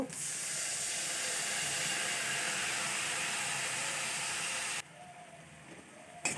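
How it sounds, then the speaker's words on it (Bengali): Spice paste with green chillies, chilli powder and turmeric frying in a pan for a cauliflower stem curry, heard as a steady, loud, hissing sizzle that cuts off abruptly, followed by a quieter background, with no speech. "মশলাটা ভালোভাবে কষিয়ে নিচ্ছি।"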